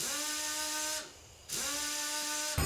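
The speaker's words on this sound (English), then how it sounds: "Oh, that is the sound of a drill." A drill whirs in the video game Death Mark, a steady high tonal whine that dips and stalls for half a second, then spins back up loudly and continues, ending with a brief harsher burst.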